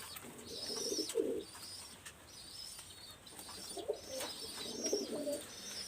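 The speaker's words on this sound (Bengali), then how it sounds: "এই দেখেন একজোড়া কবুতর আমি দেখাচ্ছি" A pair of Teddy pigeons coo in low, soft repeated bursts, two clear phrases separated by quieter gaps, close and alone with faint chirps and a light flutter of wings.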